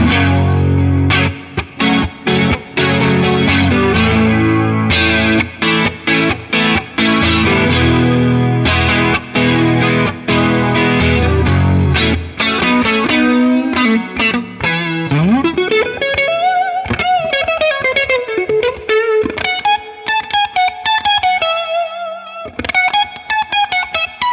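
A Donner DST-600 electric guitar plays slow lines through effects: thick, distorted chords ring out, then a sustained lead with wide bends and vibrato, drenched in chorus and reverb, loud and alone.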